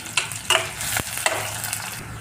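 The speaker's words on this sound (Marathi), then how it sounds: "अर्धा चमचा जिरे बारीक कट केलेला कांदा ॲड करूया आणि कांदा मस्त असा मऊसूत आपल्याला परतवून घ्यायचा आहे" Cumin and finely chopped onion sautéing over low heat for drumstick pithla, giving a soft, continuous sizzle close by, broken by a few scraping stirs of the spoon.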